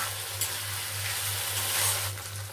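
Ginger garlic paste frying in a pan for a fish-head chachra, with a steady sizzle and occasional scraping stirs, close and continuous with a low hum underneath.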